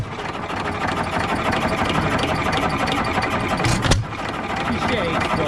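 A 3 HP Economy Model 3G engine runs steadily and fairly close, a continuous mid-pitched drone with a brief sharp knock near the end.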